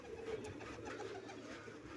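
Pigeons let out of their coops into the sunshine coo softly and steadily outdoors, a low, continuous murmur of several birds at a modest distance.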